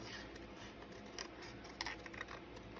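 Scissors trimming a small piece of greeting card, a faint series of soft snips and paper rustles close by in a quiet room.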